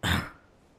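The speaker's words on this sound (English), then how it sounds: "It's just a cough." A single short, harsh cough up close, bursting out and fading within a fraction of a second into quiet.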